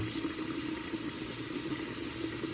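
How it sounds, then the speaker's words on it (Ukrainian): Bone-free broth pours steadily into an Afghan kazan of Tatar-style azu, a continuous close splashing and filling rush at even volume with no talk. "Вливаю ще сюди бульончик без кісток, без нічого."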